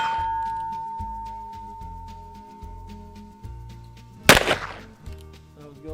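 A Heritage Rough Rider revolver loaded with .22 Magnum rounds fires a single sharp, loud shot outdoors, cutting through background music and then decaying quickly.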